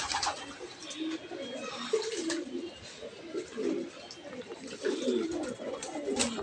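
Pigeons coo repeatedly in soft, rolling phrases nearby, several birds overlapping in an irregular rhythm with faint chirps and light background noise.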